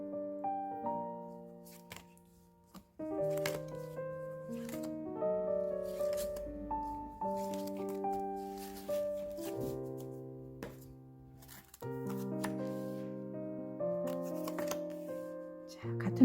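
Tarot cards being shuffled and drawn by hand, soft papery riffles and taps heard close and quietly beneath a woman's continuous speech and gentle background music.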